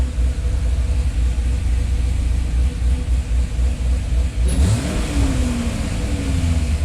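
A Chevrolet Corvette engine with a suspected fault runs steadily at about 2,000 RPM, a constant close low rumble with a brief rising whine partway through and no talking.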